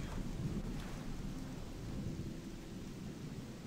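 Rain falls steadily in the video game Gothic 2 Die Nacht des Raben, a dense continuous wash of rain with deep rumbling underneath, as in a thunderstorm, and no talking.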